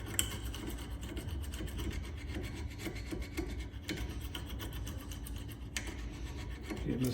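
Flat blade screwdriver scraping brake dust off Vauxhall Mokka rear brake carriers, a continuous rasping, scratching metal-on-metal rub with occasional sharper scrapes, close up and without talk.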